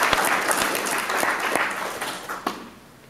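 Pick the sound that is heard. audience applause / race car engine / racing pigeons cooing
audience applause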